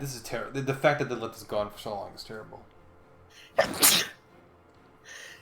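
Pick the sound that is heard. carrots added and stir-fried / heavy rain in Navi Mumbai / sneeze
sneeze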